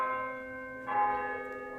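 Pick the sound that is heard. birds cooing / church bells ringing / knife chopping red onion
church bells ringing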